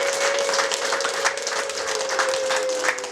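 Wedding guests in Kigali applauding together, a loud, continuous burst of many hands clapping with dense, irregular claps filling the whole stretch, with a steady tone running underneath.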